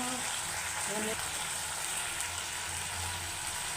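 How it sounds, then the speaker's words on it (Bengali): Turmeric, chili and cumin powders frying in a pan: a steady, hissing sizzle runs throughout at moderate loudness, with a few faint tonal clinks early on and no talk over it. "মশলাটাকে ভালো করে কষিয়ে নিচ্ছি"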